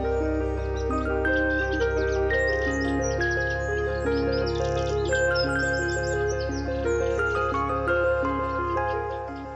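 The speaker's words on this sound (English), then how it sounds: "we can hear reed warblers in the reed bed" Reed warblers sing in a reed bed, close, continuous warbling with rapid chattering phrases and repeated whistled notes over a steady low background hum.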